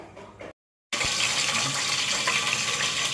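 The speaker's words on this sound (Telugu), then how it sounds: "కడిగిపెట్టి మంచినీళ్ళతో నానబెట్టుకోవాలి ఫ్రెండ్స్." Water runs steadily from a tap while basmati rice is rinsed, a continuous close gush that starts after a brief silence and carries on alone.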